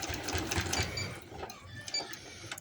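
A sewing machine runs steadily while stitching a baby boy's hoodie, its needle chattering in a quick mechanical rhythm close by, fairly quiet with small speed changes and no talking.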